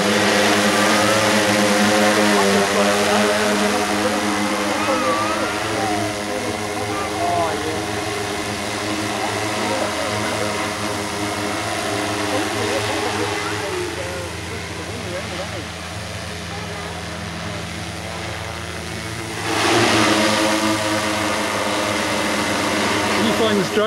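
A DJI Agras agricultural drone flies and dives around a building outdoors, its multiple rotors producing a loud, sustained whirring buzz that swells and fades with distance, with people talking over it.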